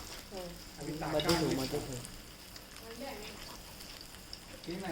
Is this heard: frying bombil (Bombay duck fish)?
yes